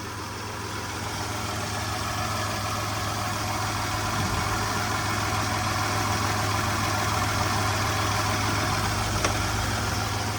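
A 2002 Toyota 4Runner engine idles steadily with the AC compressor running, a constant low droning hum and hiss held close and even throughout, with no voices.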